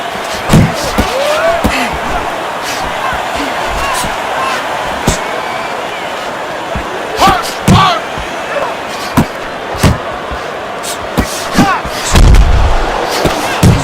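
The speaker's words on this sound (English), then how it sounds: "Well-targeted two-punch combo by Big." A boxer lands a two-punch combo in a boxing video game: sharp, loud thuds arrive in quick bursts among other punches, under a commentator's voice.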